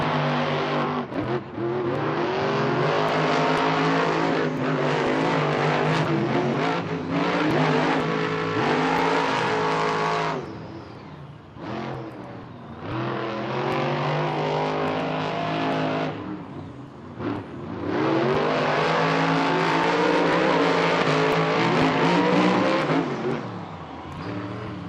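Monster Jam trucks racing at the Atlanta JCB Racing Finals: loud, sustained engine roar that swells and dips as the trucks rev and pass, with a brief lull midway before the roar builds again.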